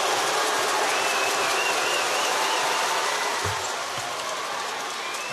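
An arena crowd at a basketball game in Melbourne roars and jeers in a dense, continuous wash of noise, holding loud throughout with a slight easing toward the end.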